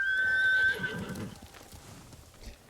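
A horse neighs loudly in Ghost of Tsushima, a high whinny lasting under a second, followed by fainter hoofbeats trailing off, with no talk over it.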